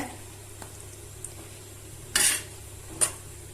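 Stirring chicken curry in a pan with separated oil: two brief, sharp scrapes of a utensil against the pan stand out over a quiet, low background hum.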